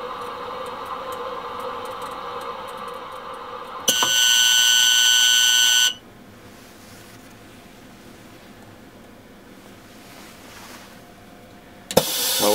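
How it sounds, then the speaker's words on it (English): A loud, steady electronic buzzer from a TP 7001 metallographic mounting press sounds for about two seconds at cycle completion and then cuts off, with quieter machine hum before and after. "a buzzer will sound to signify completion of the cycle"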